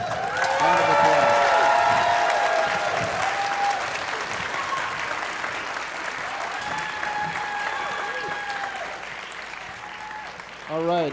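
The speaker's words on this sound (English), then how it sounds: "Round of applause." Strong applause from a school band concert audience for elementary students, filling the room and slowly tapering, with a speaker's voice carrying over the clapping near the start and again at the end.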